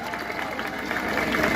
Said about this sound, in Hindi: माननीय प्रमोद जी जानी के लिए जोरदार तालियां